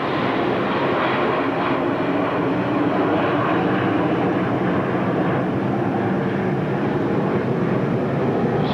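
Jet airliners departing LaGuardia Airport over a tennis match at the US Open 1987, a steady, loud broadband engine roar filling the whole span without pause.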